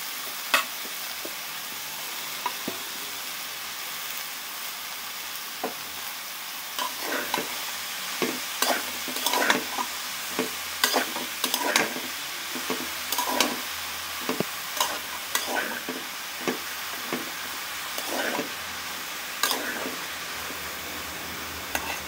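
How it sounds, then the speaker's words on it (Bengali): Chopped bottle gourd stir-fried in leftover oil from frying fish, a constant low sizzle broken by repeated sharp scraping and stirring clatters from a spatula in the pan, close and alone. "মাছ ভাজা পরে যে তেলগুলো রয়েছে ওই তেলের মধ্যে আমরা"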